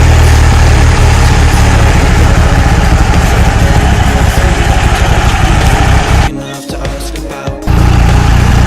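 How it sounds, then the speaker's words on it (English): A freshly built 2G DSM turbo engine idles after its first startup, a loud, rough, rumbling drone up close that briefly drops off and then returns at full strength, with no talking. "Okay, it's been idling for about a minute or so."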